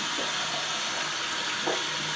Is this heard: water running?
yes